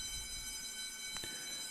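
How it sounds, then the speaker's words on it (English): A building alarm sounds a steady high-pitched electronic tone that holds throughout at moderate level, with a couple of brief knocks near the end. "now there's an alarm going off here in the building"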